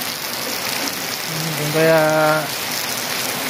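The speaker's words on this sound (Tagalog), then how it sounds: "Ang lakas ng ulan yan dito sa Erosin." Heavy rain pouring down in Erosin, Philippines, a dense steady hiss throughout, with a voice briefly heard partway under it.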